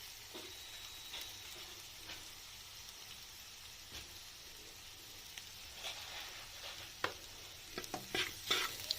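A spoon stirs a sandwich filling mixture with chilli flakes in a pan, with scattered scraping taps over a soft, steady sizzle and a burst of closer clinks and scrapes near the end.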